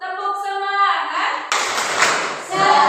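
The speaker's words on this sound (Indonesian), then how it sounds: "tepuk semangat." A classroom of students chants together, then breaks into a short burst of sharp group clapping for the 'tepuk semangat' cheer during a sociology lesson, with voices returning at the end.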